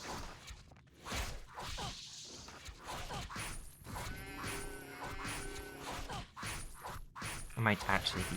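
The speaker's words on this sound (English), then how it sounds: "A constant sound of sheep" Repeated sheep bleats in Zuma Temple in the Legend of Mir video game, recurring amid game whooshes, weapon swings and crashing effects, with a voice talking over much of it.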